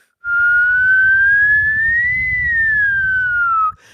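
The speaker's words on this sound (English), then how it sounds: "but I can whistle really loudly" A single loud, clear human whistle holds for about three and a half seconds, gliding slowly up and then back down in pitch, up close and alone.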